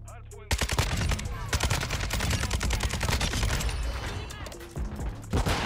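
An RPK light machine gun in Modern Warfare 2 fires rapid, sustained automatic bursts, loud and close, with sharp cracks and a few brief pauses, mixed with game action noise.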